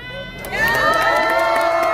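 A crowd at an outdoor Korean political rally cheers and shouts, the loud mass of voices swelling suddenly after a quiet start and holding strong to the end.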